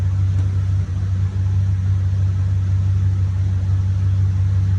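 Car engine idling after an oil flush, a steady, loud low rumble that holds constant without revving, close to the microphone.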